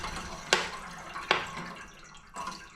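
Water gurgles through a domestic heating pipe as a valve is opened to restore circulation, with three distinct bubbling bursts spaced about a second apart, close by and otherwise fairly quiet.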